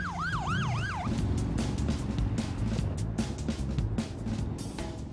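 Wailing siren from a BMW R1200 RT emergency motorcycle with blue lights, a rising-and-falling tone sweeping for about a second, then giving way to a busy rumble of traffic and engine noise.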